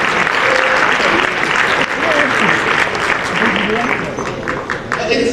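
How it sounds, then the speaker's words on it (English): Audience applause for the IAP at a speech on a peaceful transition, a dense, steady wash of clapping from a large crowd that holds loud for the whole stretch, with faint voices mixed underneath. "Another big round of applause for the IAP."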